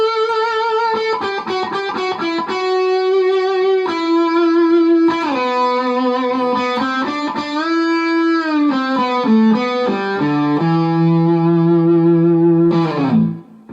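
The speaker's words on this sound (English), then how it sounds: "it's nice to develop a really sweet vibrato sound" A distorted electric guitar plays a sustained lead phrase, its held notes wavering with wrist vibrato and sliding between pitches, loud and saturated with effects, ending on a long vibrato note before cutting off.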